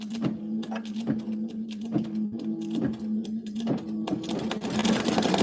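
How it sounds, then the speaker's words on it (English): An embroidery machine stitches around lettering on Mylar, with a steady mechanical hum broken by a regular run of clacking needle strokes, close and fairly loud throughout. "And so now it should sew all around the wording."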